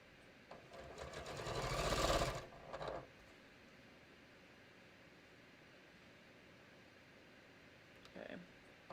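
A sewing machine runs a short burst of stitching on a raglan sleeve top, rising to a steady whir for about two seconds, followed by a brief second run and a quick final blip.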